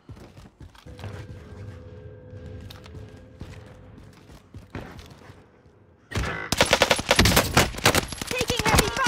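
Heavy automatic gunfire in the Warzone video game, with a MAC 10 in the loadout: scattered distant shots, then a sudden burst of loud, rapid, close-range firing with sharp repeated cracks that continue to the end.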